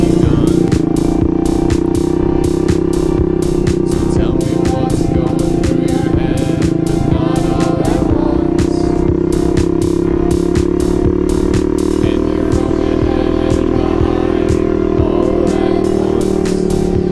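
A custom-built motorcycle engine runs steadily and loudly up close, a continuous droning hum with rapid ticking pulses throughout and no talk.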